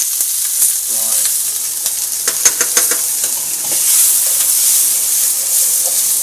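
Capsicum and onion sizzle steadily while frying in a pan for chilli chicken, a continuous hissing fry with a few sharp spits and stirring clicks up close; a brief word is spoken.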